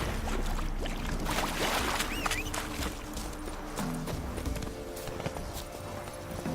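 A horse gallops in The Witcher 3: Wild Hunt, giving a steady, loud stream of hoofbeats under constant game ambience, with a brief whinny-like sweep partway through and no speech.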